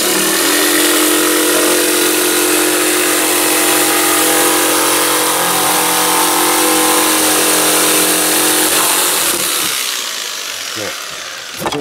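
A power saw cuts out a large Easter bunny shape for a craft project, a loud, steady buzzing whine that runs continuously for about ten seconds before winding down and stopping.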